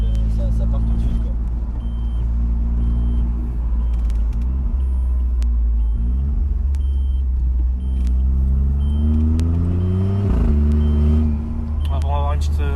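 A Brabus Smart car drives on the road, its engine rumbling steadily from inside the cabin. Revs rise and fall through gear changes, while people talk over the engine note.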